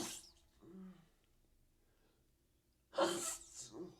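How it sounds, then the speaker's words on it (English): A single person sneezes sharply and loudly near the end, after a few quiet breaths and soft vocal sounds in an otherwise hushed room. "I knew I was about to sneeze"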